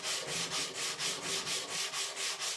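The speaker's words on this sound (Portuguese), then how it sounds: "E fazer, por exemplo, um lixamento." Wood being sanded by hand, a steady back-and-forth rasping in about ten even strokes, close and clear with no talking.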